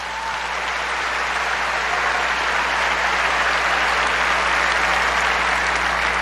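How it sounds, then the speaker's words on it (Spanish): An audience at a church debate event breaks into strong, sustained applause, a dense patter of many clapping hands that holds steady and grows slightly louder throughout. "Un aplauso fuerte para el hermano."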